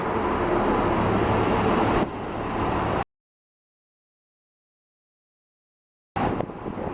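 A JR Central KiHa 11 diesel railcar arriving at Kameyama station, a close rumbling engine and rail noise that drops after two seconds, cuts to silence, then returns briefly near the end.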